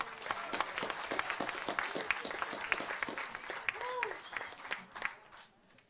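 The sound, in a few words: audience applause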